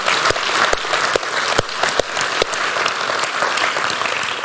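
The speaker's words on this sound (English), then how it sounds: "let's just give another round of applause for everyone that's contributed to that." A debate audience gives a steady round of applause, with dense clapping and a few sharp, close claps standing out throughout.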